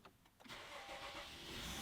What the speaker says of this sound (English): Oh, it just started right up.